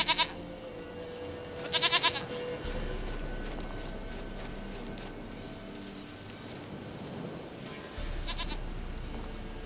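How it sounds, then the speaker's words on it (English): Goat bleats from The Witcher 3: Wild Hunt come as two quavering calls close together at the start, followed by a long stretch of low ambient game background with occasional soft hoof-like clops. "Goat of mine, dearest, sweetest goat"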